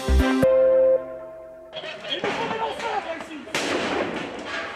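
Fireworks during nighttime riots in France crackle and boom amid echoing street noise, following a short musical sting, loud and chaotic with voices mixed in.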